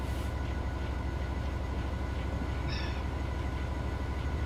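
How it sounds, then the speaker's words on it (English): A Heathrow Express train arriving in Train Sim World 6, a loud continuous rumble of rolling wheels with rhythmic rail clatter and a brief high squeal partway through, alone without talk. "Heathrow Express coming in"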